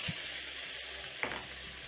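Tomatoes sizzle in a pan with garlic and ginger as they are stirred in for Kenyan matumbo, a steady soft frying hiss with a brief louder stir around the middle.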